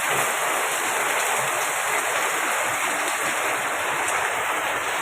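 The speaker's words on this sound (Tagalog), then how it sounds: "walang tigil na ulan to" Heavy rain pours steadily in a dense, continuous hiss with no break beside a piggery, and nobody speaks.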